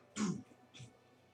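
A single short cough or throat-clear bursts out close and fairly loud, followed by a softer second catch about half a second later, during a casual gaming session.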